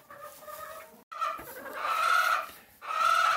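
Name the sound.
chickens clucking on a homestead farm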